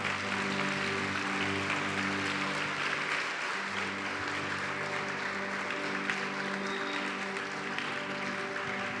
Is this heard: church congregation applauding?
yes